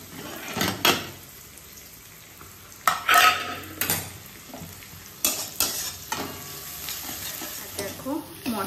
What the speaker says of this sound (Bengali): এইদিকে পেঁয়াজ ভাজা হচ্ছে